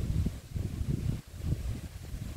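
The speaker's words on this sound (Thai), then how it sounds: "ฟังเสียงลมกับเสียงฝนนะจ๊ะ" Strong wind buffeting the microphone with rain gusting in, a continuous low roaring rumble that swells and dips in waves, close and fairly loud, with no voices.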